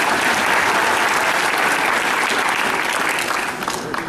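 Loud, dense audience applause at a cosplay contest awards ceremony, with sustained clapping and crowd noise holding strong throughout and easing slightly near the end.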